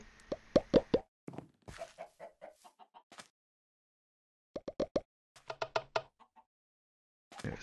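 Water poured in a wizard-training video game comes through as a run of short, plopping, bubbly bursts in two separate clusters, with gaps of silence between them; no talking.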